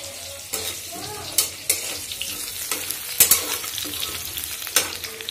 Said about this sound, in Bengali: মাছ ধুয়ে ভেজে নিয়েছি, এখন আলু ভাজছি